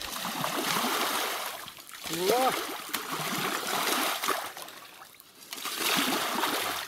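Water is pushed and swept off a dirt road under repair, giving continuous sloshing, trickling and splashing near the listener, with people talking over it.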